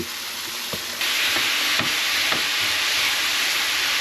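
Ground beef browning in a hot pan, a steady close hiss and sizzle with a few scraping stirs of a utensil, no one talking.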